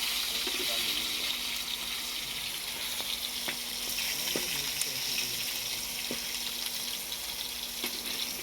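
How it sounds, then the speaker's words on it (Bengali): Fish frying in a pan during a late-night communal cooking session, giving a steady, close hiss of sizzling oil throughout, with a few light clinks and faint background voices. "এদিকে মাছ ভাজা হচ্ছে"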